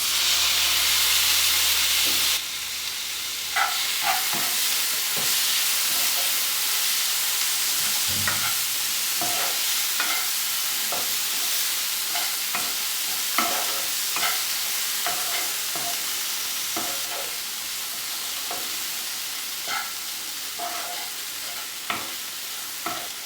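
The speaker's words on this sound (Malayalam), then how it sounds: "ഇനി ചെറുതായി അരിഞ്ഞു വെച്ചിരിക്കുന്ന തക്കാളി ഇതിലേക്ക് ചേർക്കാം." Chopped tomatoes hit a hot pan while a broccoli-paneer masala cooks, giving a steady loud sizzle and hiss, with an extra burst at the moment they drop in and intermittent scraping stir clicks throughout; nobody speaks.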